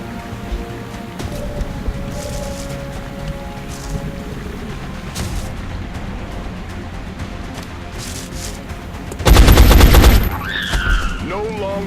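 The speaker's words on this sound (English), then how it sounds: "Taking fire over here." Gunfire in the video game XCOM: Enemy Unknown, a loud burst of automatic fire near the end over a low ambient battle rumble and scattered effects.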